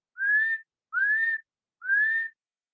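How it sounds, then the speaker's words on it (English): Three short rising whistles at dusk, evenly spaced and clear against silence, each lasting about half a second, heard alone with no talking. "we're hearing these whistles again"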